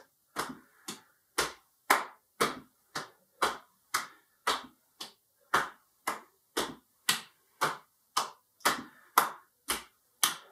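A participant in a seated exercise routine claps their hands about twenty times in a steady, evenly spaced beat. The claps are crisp and close, with short silences between them and no talking.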